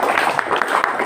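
Dense applause from a gathered audience at a Javanese community event, steady clapping throughout a brief moment.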